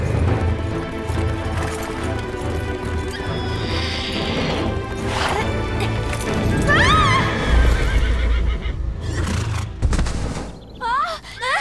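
An out-of-control horse neighs loudly several times amid clattering hooves and thumps, with brief voices in the background.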